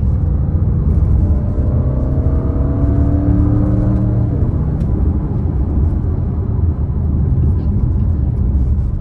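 An Audi RS7 C8 in sport mode accelerates with a deep, raspy engine note. Rising tones climb over a constant loud road rumble, then settle into a steady drone.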